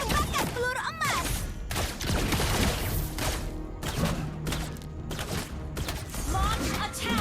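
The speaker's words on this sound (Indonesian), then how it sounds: "Tembakan peluru emas." Golden bullet gunshots from the mobile game Mobile Legends crack in rapid volleys with metallic mechanical clatter. They blend with game effects, and a character voice speaks over them.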